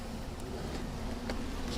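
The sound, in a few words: honey bees buzzing around an open hive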